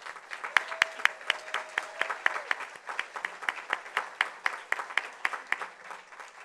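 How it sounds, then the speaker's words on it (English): An audience at a trademark exposition hosted with the Smithsonian claps for the event organizers, a steady spread of individual hand claps at moderate volume with a faint voice briefly underneath. "Let's give them a big round of applause."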